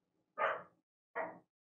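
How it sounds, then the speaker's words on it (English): A dog in Baldur's Gate 2 gives two short, close barks about three quarters of a second apart, with silence around them. "Bark, bark, says Yaska"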